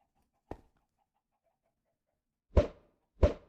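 Chickens on an auto chicken farm in the Minecraft video game give short clucks, one faint and then two louder ones close together, with near silence between.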